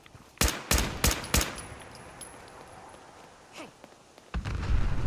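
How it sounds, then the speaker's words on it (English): Fallout 4 combat: a quick burst of four sharp, loud gunshots, then a quieter stretch with faint distant pops, and a heavy rumbling explosion building at the end. "That blew up."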